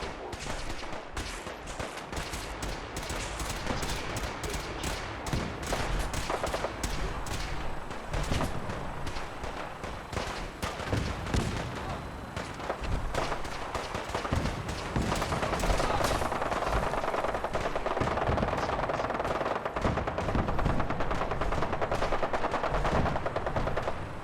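Gunfire in Fallout 4: dense, continuous bursts of automatic fire and repeated shots that stay loud and close for the whole stretch, with heavier rattling volleys toward the end.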